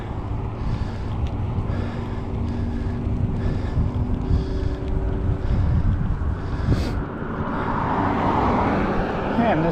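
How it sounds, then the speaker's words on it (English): A strong straight headwind buffets the microphone throughout a fall bike ride around Sudbury, a continuous loud roaring rumble that swells and eases, with a brief louder gust near the end. "this wind, this straight headwind."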